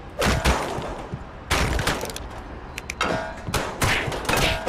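Rapid chain gun fire in Scribblenauts Unmasked, a dense burst of loud percussive shots and thumps coming in clustered volleys with brief gaps between them.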